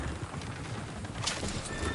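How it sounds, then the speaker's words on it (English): Horses neigh and whinny loudly in the video game Red Dead Redemption II, their calls mixed with hoof clip-clops and a dense wash of noise, close and continuous. "Oh, shit, the horses! Damn horses!"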